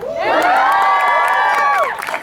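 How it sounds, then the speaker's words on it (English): Comic convention panel audience cheering loudly, a sustained swell of voices and whoops that rises, holds for about two seconds, then fades. "Everybody give him a big round of applause."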